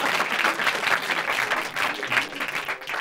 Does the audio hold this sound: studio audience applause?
yes